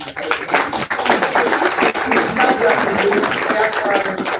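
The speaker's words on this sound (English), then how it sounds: "I want us to give a big round of applause" Audience at a Pine Bluff City Council meeting applauds volunteers, a dense burst of many hands clapping that stays loud for several seconds with voices mixed in.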